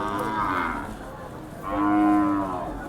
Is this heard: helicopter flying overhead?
no